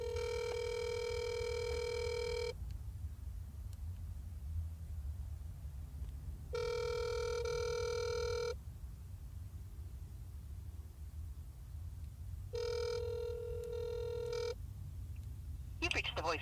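A telephone line rings back three times in slow, evenly spaced bursts over a steady low hum while a call is transferred to a desk phone in the City of Fort Collins police administration office.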